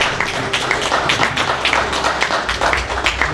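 A round of applause for a speaker named Mr. Hill at a community gathering, with scattered, uneven clapping at moderate loudness running throughout.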